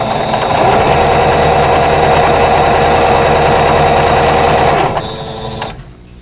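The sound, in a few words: sewing machine sewing quilt patches together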